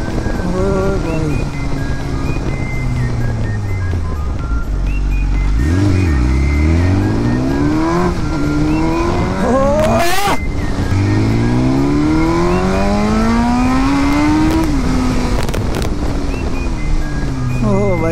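A BMW S1000 RR superbike revs hard on a street, its engine note repeatedly climbing and falling in loud, sweeping bursts close by, with people talking and exclaiming over it.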